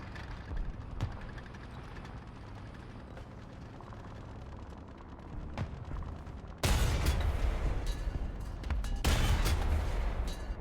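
Tank cannon fire in a tank combat video game from the SAV 20.12.48: a low engine rumble, then two loud, heavy booming shots about two seconds apart, each with a lingering tail.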